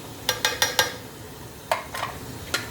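Paya masala being stirred and fried in a pan: a quick run of four spoon scrapes, then a few more spaced strokes over a low sizzle, close and without talk.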